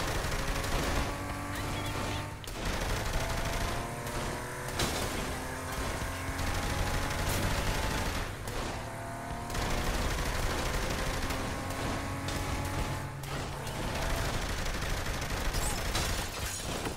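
Steady gunfire in Saints Row The Third Remastered, with repeated shots cracking over a dense, busy game mix throughout, no voices.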